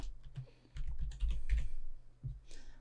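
Computer keyboard typing while a variable is named in a robot programming environment; irregular bursts of key clicks, fairly close, moderately loud, with no speech over them.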